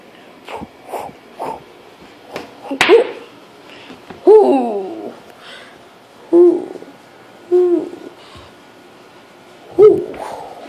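An owl hoots repeatedly, several loud, close calls spaced out over the stretch with fainter sounds between them, heard in a cartoon adventure episode.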